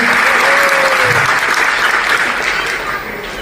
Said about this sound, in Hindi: एक बार तालियां साहब के लिए।